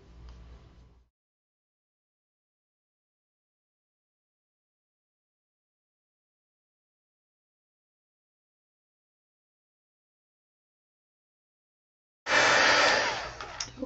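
A heat gun drying paint on a scrapbook page, blowing with a steady, airy roar that cuts off after a second, then after a long silence starts again loud and close.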